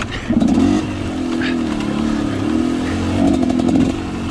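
A motorcycle engine revs loud and close as the bike climbs over slippery rocks on a trail, the pitch rising and falling with throttle bursts.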